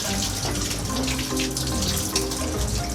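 Water streams steadily and loudly from a faucet during hair washing, a close, continuous splashing rush with no talking.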